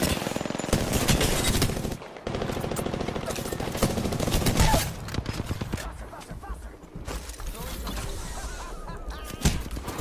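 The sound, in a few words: gunfire in the video game Apex Legends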